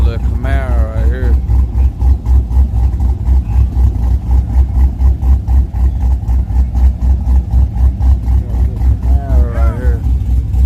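Idling engine of a Camaro at a Yellow Belly drag strip, a steady low rumble running throughout with people talking over it near the start and end.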